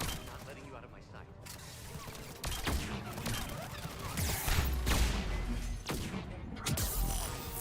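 Gunfire in the video game Mass Effect 3: repeated sharp shots and impacts burst out in several clusters over a steady background, with someone talking in between.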